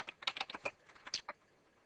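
Quick, irregular keystrokes on a computer keyboard while a network router is being configured, roughly a dozen close taps in a short burst that trails off into quiet.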